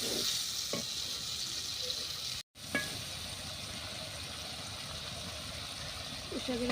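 Small freshwater prawns frying in spiced masala with a steady low sizzle, broken by a couple of stirring scrapes and a brief dropout, quiet and close.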